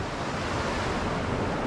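River water flows steadily, a continuous broadband rush with no breaks and no voices over it.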